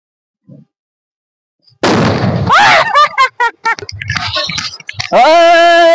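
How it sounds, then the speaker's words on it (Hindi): Diwali firecracker bomb going off during village celebrations: a sudden loud close bang, then scattered sharp pops and crackles, ending with a raised harmonic shout or whistle. "देखो देखो देखो देखो बम छुट्टे।"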